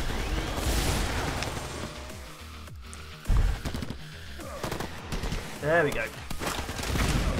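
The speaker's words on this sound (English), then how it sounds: "A siege house is literally a house full of soldiers firing out the windows." Soldiers firing from the windows of a siege house in the tower defense game Art of Defense, loud rattling volleys of gunfire with crashes and booms, while someone talks briefly over the battle.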